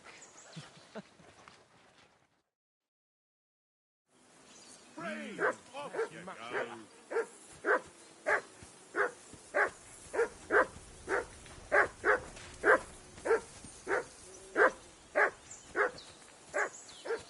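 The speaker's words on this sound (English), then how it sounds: "I assume you can hear that damn dog of yours barking." A dog in the video game Kingdom Come Deliverance 2 barks in a steady, evenly spaced series of loud, sharp barks after a short silence, with some speech and whimpering sounds early on.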